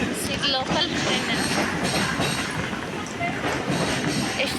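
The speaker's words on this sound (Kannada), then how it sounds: "ಲೋಕಲ್ ಟ್ರೈನ್ ಹೋಗ್ತಿದೆ." A Mumbai local train runs past at Dadar station, a loud, continuous rumble and rattle of wheels with a bright hiss, heard close with people talking over it.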